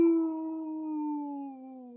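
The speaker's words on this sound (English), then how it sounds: "first you'll hear a howl" A single long wolf howl, steady and sustained, carrying loud and clear with a slow, slight downward drift in pitch, alone with no other sounds.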